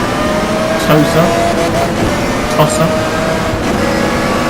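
A race car engine drones loudly and continuously in the GTR Evolution racing game, holding a steady roar with slight surges during rev matching, while someone talks over it.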